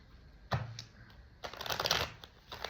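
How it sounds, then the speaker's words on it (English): Tarot cards being shuffled, with a sharp riffle burst near the start and a longer, denser stretch of papery flicking and slapping after a pause, close and fairly loud, no talking. "Let me shuffle this the right way."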